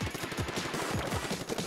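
Fireworks go off near a minor-league ballpark in a dense, continuous crackling barrage of rapid pops, loud and sustained with no pauses or voices.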